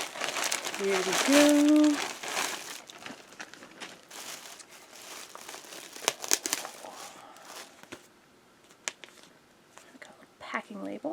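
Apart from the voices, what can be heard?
opening a package, crinkling and tearing packaging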